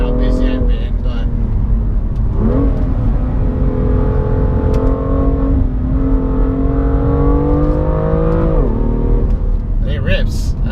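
A 2017 BMW M2's engine pulls hard with rising and falling tones through gear changes, loud and continuous road and engine noise from inside the moving car, with a voice talking over it.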